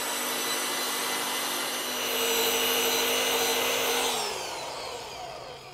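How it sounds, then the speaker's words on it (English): A machine polisher works over a fast-drying clear coat on car paint, a steady loud whirring drone that holds for several seconds, then winds down as the pitch falls near the end. "That's the defect gone and the polishing is complete."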